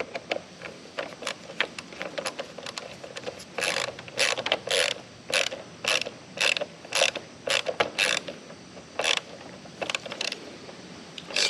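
A ratchet tightens a screw at the connections of a mini-split indoor unit. It gives close, crisp bursts of clicking pawl strokes, with short pauses between pulls and no voices.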